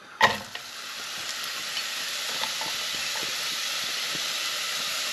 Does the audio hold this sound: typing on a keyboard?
no